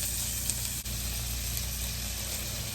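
Peppers sauté in butter in a pan, giving a steady, close, even sizzle with a faint hiss throughout and one brief dip partway through, with no talking.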